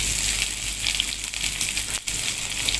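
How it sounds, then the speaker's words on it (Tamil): Chopped onion sizzles loudly in hot oil, a constant bright hiss with a short dip near the end. "வெங்காயம் நல்லா ஒரு வதக்கிடலாம்"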